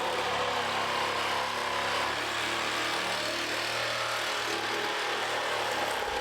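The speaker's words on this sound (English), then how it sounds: "So Jay, let's cut this thing out." A power saw cuts through 4-inch Schedule 20 thin-wall PVC pipe, a loud, continuous, rough whine close by with no pauses over the whole stretch.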